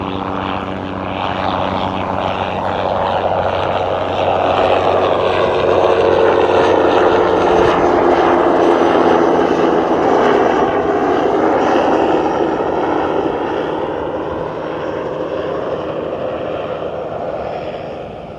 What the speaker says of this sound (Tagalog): may helicopter dito, pakita ko sa inyo